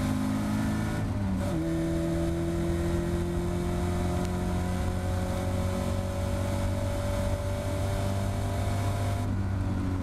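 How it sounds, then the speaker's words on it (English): Caterham race car at Cadwell Park accelerating hard from an in-car position, engine roaring loud and steady with a brief dip at a gearshift, then pitch climbing smoothly as it pulls down the straight. "Then back on the power for the start finish straight, up into fourth gear."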